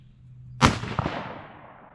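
A single sharp scoped-rifle shot cracks close and loud on a calm outdoor range, then rings off in a brief fading echo.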